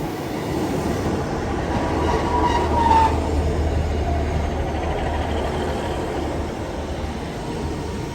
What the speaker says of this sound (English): Well, here comes my train, which will take me to the next stop along the line at Penryn.